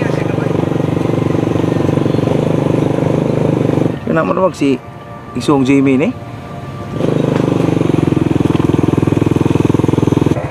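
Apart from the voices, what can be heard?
two motorcycle engines running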